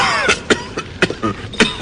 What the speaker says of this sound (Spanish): El ataque de tos le impidió responderme al momento.